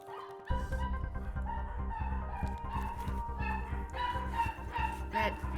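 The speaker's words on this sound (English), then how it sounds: "My Maltese. I don't know who he's barking at" A small Maltese dog barking indoors, a run of sharp, repeated yaps in quick succession, fairly close and loud, over a busy background.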